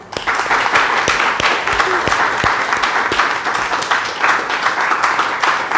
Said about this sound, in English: a round of applause to the panel.